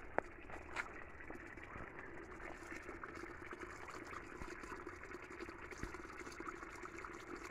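Steady, soft flow of clear natural spring water running out of a mountainside, a continuous gentle gush with occasional brief splashes and no talk.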